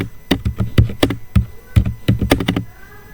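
Switch configuration commands are typed on a computer keyboard: a quick, uneven run of about a dozen close, crisp keystrokes with no talking.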